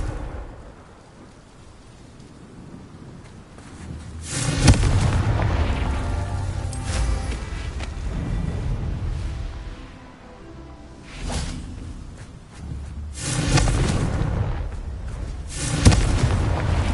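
Confringo spell blasts in the Hogwarts Legacy video game land as heavy, rumbling booms, loud and rolling, in three separate bursts with quieter stretches between them.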